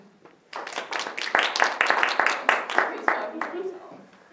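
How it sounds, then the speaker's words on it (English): A small group claps in a brief burst of overlapping, uneven claps that swells and then fades, with voices talking and cheering underneath. "You clap for yourself."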